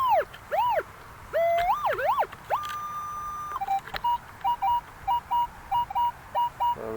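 A Minelab Equinox 800 metal detector sounds its target tones outdoors, rising and falling warbling beeps giving way to a held tone, then a string of short regular beeps, fairly quiet.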